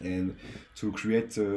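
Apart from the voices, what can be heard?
No distinct noise like a dog, phone or traffic.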